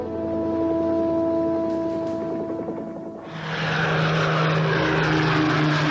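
Propeller drone of a Republic P-47 Thunderbolt fighter aircraft, a steady loud engine roar that briefly dips midway before a deeper, sustained tone returns, with no talk.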